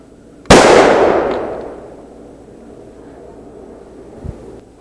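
A bottle filled with HHO gas explodes out in a yard on the 4th of July, a single loud sharp blast that rolls off into a long fading rumble, followed by quiet outdoor ambience and a faint thump.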